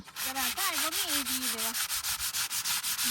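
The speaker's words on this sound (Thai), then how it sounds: "สกิมแล้วก็มาขัด" A skim-coated wall is sanded by hand in quick, even back-and-forth rubbing strokes that sound close and steady throughout, while a faint voice-like tone is briefly heard in the background.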